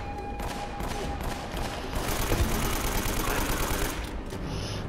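Sustained gunfire rattles through a firefight in Uncharted: Drake's Fortune, dense bursts of automatic shots that swell louder in the middle and carry on without pause.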